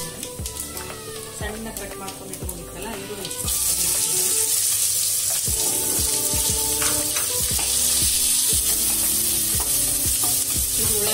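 Curry leaves and onion drop into hot oil for a stuffed chili stir-fry, bursting into a loud, sustained sizzle after a few seconds of quieter kitchen clatter, with spoon scrapes and a brief spoken remark.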